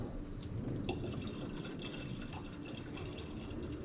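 Water poured from a jug into the radiator of a Corvette with a freshly rebuilt engine, a soft steady trickle and splash with light drips, close by and without talking.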